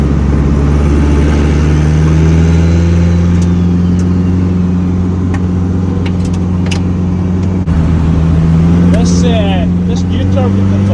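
A Honda K24 compound-turbo engine fitted with a Pulsar PTA5855 turbo runs at a steady, loud idle with a strong low drone, a brief stumble midway, and a voice talking over it.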